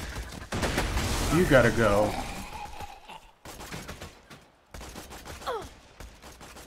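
Borderlands 2 gunfire aimed at the player, in the Wildlife Preserve: a dense loud burst of shots early on, then it fades into scattered quieter bursts and an effect sound, while someone talks over it.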